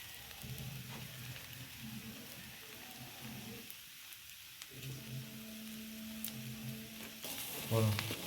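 Potato paratha filling fries quietly in a pan with a soft, steady sizzle and intermittent stirring scrapes, with faint low voice-like sounds underneath and a slightly louder clatter near the end.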